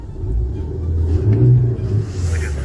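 A car engine revs up and eases off, a low throaty rumble that swells in the middle and then drops back, close and fairly loud, with no clear talking.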